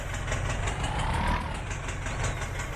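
In Farming Simulator 19, a tractor-driven suction water pump runs with a steady mid-pitched engine drone and a faint rhythmic knock, close and even throughout, with no voices.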